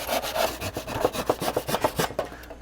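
Handsaw cutting through a faux wood beam, a steady run of quick rasping back-and-forth strokes, close and fairly loud, with no voices.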